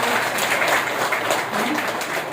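Audience clapping at a Brahma Kumaris spiritual gathering, a loud, continuous burst of many hands clapping together throughout.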